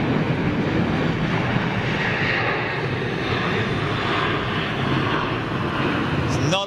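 A TUI Boeing 737-8 jet rumbles past with a steady low-heavy engine roar, fairly close and constant throughout, with a faint voice beneath it.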